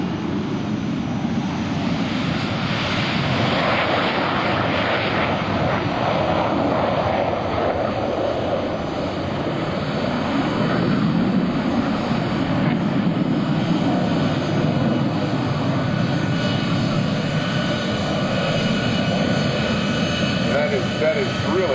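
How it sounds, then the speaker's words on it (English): A First Fighter Wing military jet launching at the 2004 AirPower Over Hampton Roads air show at Langley, a loud, steady engine roar that fills the whole stretch, with an announcer talking over it. "We're launching our first fighter wing aircraft out of here now."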